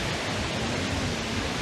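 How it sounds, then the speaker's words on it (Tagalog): Heavy water pours down the roughly 140-foot Mother Falls on the Diteki River in San Luis, Aurora, a steady, dense, close roar of falling water with no break. "ang lakas ng ano, bagsak ng tubig"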